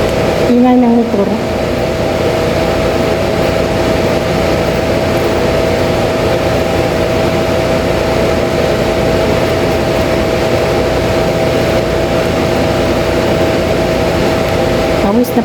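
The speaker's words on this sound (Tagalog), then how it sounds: "Ingay ng motor." A motor engine runs steadily and continuously in a hot setting, a loud, constant drone with a low hum and a fan-like whir that holds unchanged from start to finish.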